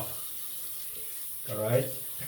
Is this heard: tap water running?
yes